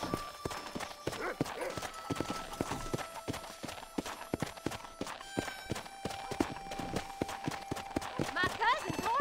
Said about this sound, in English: My cousin's horse is racing.